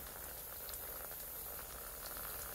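Water trickles and fizzes steadily through a Rusco 1000-mesh, 15-micron spin-down sediment filter, a soft continuous hiss with no talk.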